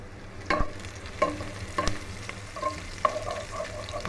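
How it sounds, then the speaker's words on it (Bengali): Onions fry in hot oil in a pan with a steady soft sizzle, while a spatula stirs them in several distinct scraping strokes at irregular intervals, close up. "পেঁয়াজ ব্রাউন কালার হওয়া পর্যন্ত এটা ভাজতে হবে।"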